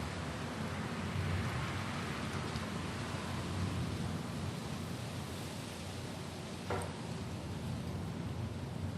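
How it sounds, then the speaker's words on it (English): Light rain falls steadily after a storm with the power out and wind blowing, forming a continuous even hiss with no distinct drops standing out. "light rain is falling"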